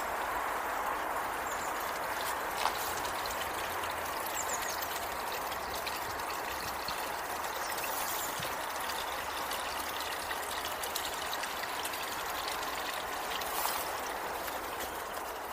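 Water trickles and splashes steadily in a narrow alleyway, a constant, moderately close hiss and gurgle with no voices.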